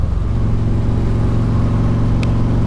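A Harley-Davidson Road King motorcycle cruises at speed in third gear on part throttle, a loud, steady low engine drone with a rhythmic rumble and wind noise, close and continuous, with no voices.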